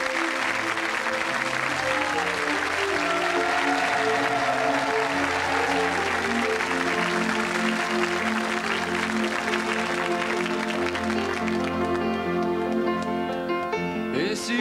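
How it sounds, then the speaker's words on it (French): A TV studio audience claps steadily and warmly throughout, dense sustained applause with music rising underneath toward the end. "vous allez l'applaudir chaleureusement"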